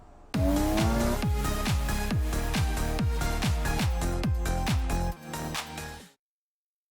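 BMW E36 M3, close to stock apart from a UUC lightweight flywheel clutch kit, driving with a loud, steady engine drone and rapid repeated gear changes, the pitch climbing and dropping in quick sweeps before cutting off.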